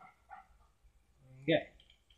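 A dog in the video game Alan Wake gives a single short bark near the end, after quiet game dialogue and background sounds.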